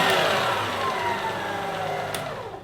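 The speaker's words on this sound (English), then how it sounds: "now we're going to leave that to whisk for about 10-15 minutes until it's completely cold." An electric mixer whisks a meringue mixture for a Victoria sponge's buttercream in a steady motor whir that holds even and close, easing slightly toward the end.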